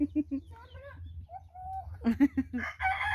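Chickens cluck in short bursts among backyard chatter, with a person calling them. The voices are close and fairly faint and overlap the clucks.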